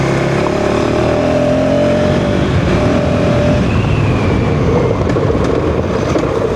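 A 2025 KTM 390 Enduro R motorcycle runs fast down an unfamiliar dirt road, its engine droning steadily and loudly under heavy wind rush and road roar throughout.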